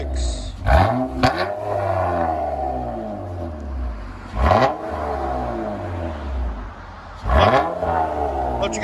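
A 2016 Honda Accord V6 fitted with a Borla S-Type dual exhaust revs three separate times, each a sharp, loud roar that climbs and then falls away, with an engine hum between the blips.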